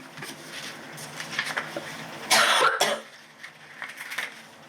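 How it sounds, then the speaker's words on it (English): A person coughs sharply a couple of times, loud and close, amid quieter background clatter and movement. "I don't know why I'm coughing."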